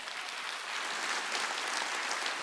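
Steady, dense applause from a large church congregation during a Wednesday worship service fills the space, sustained and even without any break.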